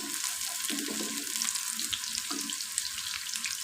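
Desi ghee heating in a pan, hissing and sizzling steadily at close range, with a few faint scrapes and bubbling pops and no voices.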